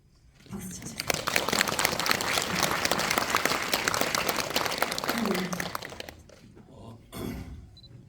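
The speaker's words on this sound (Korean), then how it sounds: "박수 쳐주세요." Audience at a film screening Q&A with the director and actors bursts into applause, a dense, loud wash of clapping that swells quickly, holds for several seconds, then fades, with a voice speaking near the end.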